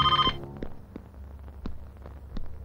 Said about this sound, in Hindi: आंटी, फोन की घंटी बज रही है